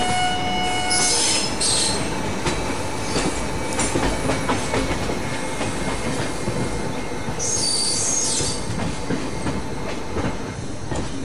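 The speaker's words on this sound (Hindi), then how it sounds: "ये देखिए वैप 1। और उसके पीछे है आपका वैप 5।" Indian Railways WAP-1 and WAP-5 electric locomotives in the Open Rails train simulator game, continuous rolling rail noise with clickety-clack rhythm, squealing wheels and horn blasts, loud and steady throughout.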